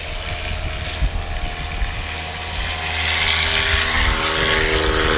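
Propeller aircraft engine at a STOL competition in St. Joseph, Missouri, a steady droning hum that swells louder midway as the plane powers up for takeoff, heard alone at moderate distance.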